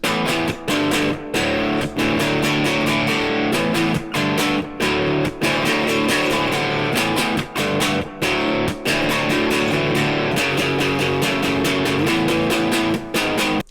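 Chugging electric guitar rhythm with a crunchy, effects-laden tone, steady strummed chords with brief rhythmic stops, no voices.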